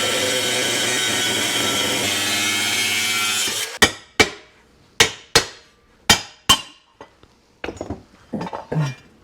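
Saw cutting through an RBC small-engine intake manifold to remove its top, a loud steady rasp for several seconds, then a series of sharp metallic knocks and clatters as the piece is worked loose.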